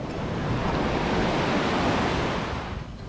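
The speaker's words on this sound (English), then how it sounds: "The water rushes onto the shore and then sucks back like a pump." Ocean surf at high tide on a tropical desert island shore, a steady loud broadband rush of water surging in and drawing back, close and continuous without any voices.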